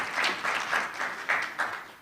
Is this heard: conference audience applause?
yes